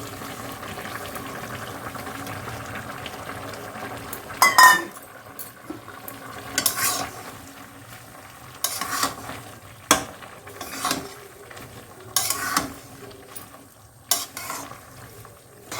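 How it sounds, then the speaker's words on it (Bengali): Pumpkin-leaf and shrimp broth simmering in a home kitchen pot, a steady soft bubbling bed broken by several louder clattering stirs and utensil knocks against the pan, close and without talk. "ঝোলটা ফুটে গেছে"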